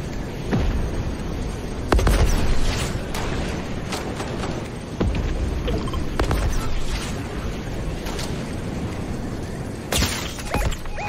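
Rockets explode in a video game, with booms and bursts spread through dense, loud, continuous battle noise and some players talking.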